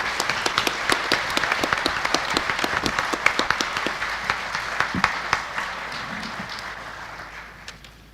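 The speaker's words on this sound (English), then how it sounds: "Can we give a round of applause to our panelists," An audience claps for a panel at the close of a discussion, a moderately sized crowd whose applause starts dense and thins out into scattered individual claps as it fades.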